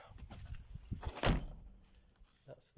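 A Range Rover Classic door under restoration slams shut once with a single loud, sharp thunk, close by, amid faint background rustling.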